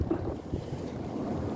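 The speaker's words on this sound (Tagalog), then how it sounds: "medyo malakas na hangin dito sa bandang dagat." Strong wind blows along the seashore, buffeting the microphone with a low, steady rumble and a faint wash of sea in the background, with no voices.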